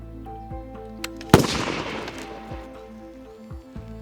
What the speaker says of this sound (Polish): Ok, to zabieramy się za eksperyment z pustą butelką.